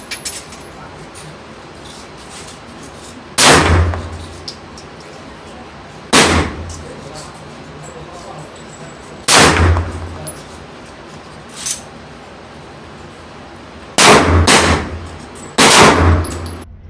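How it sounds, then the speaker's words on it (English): Glock 19 pistol fitted with a Trijicon RMR fires six loud, sharp shots at a steel target 10 yards away, spaced irregularly and ringing briefly after each crack, with faint low noise in between. "I'm gonna take 3 shots at 10 yards."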